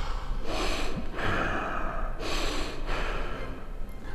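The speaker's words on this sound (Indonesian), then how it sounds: "Suara napas yang ditarik dalam dan keluar dari hidung. Seperti napas orang yang sedang emosi" Heavy breathing drawn deeply in and out through the nose, like someone seething with anger, in a horror-story setting: close, rhythmic rasping inhales and exhales repeating in slow cycles, with no speech.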